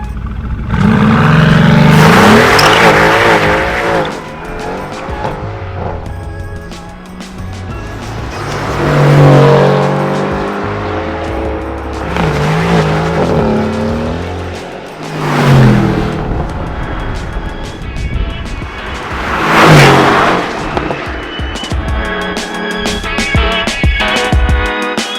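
A RENNtech-tuned Mercedes-AMG GT R sports car roars loudly in several surging waves as it accelerates, its engine note rising and falling with revving, heard close and dominant throughout.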